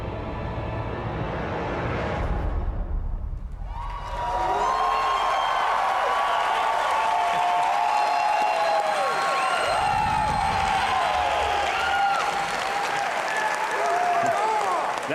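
Large audience at the E3 2019 Bethesda press conference applauding and cheering loudly, a sustained dense roar of clapping with whoops that briefly dips, then swells again and carries on steadily to the end.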